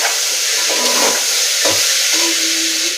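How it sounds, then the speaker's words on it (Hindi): Shelled green peas fry in a pan with a loud, continuous sizzle, joined by occasional scrapes and clinks of stirring close by. "अब इसको मैं अच्छी तरह फ्राई कर लूंगा।"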